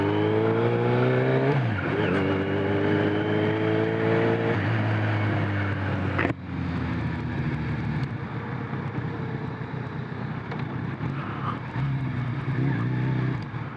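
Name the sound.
inline four motorcycle engine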